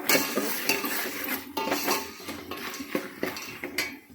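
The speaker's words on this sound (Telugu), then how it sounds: "నెక్స్ట్ ఉప్పు కలుపుకొని ఇప్పుడు" Salt is stirred into a pan while making poha, with a spoon scraping and clinking against the metal repeatedly over a soft sizzle, close and fairly loud, with no talking.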